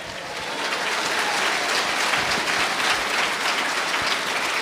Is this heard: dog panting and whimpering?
no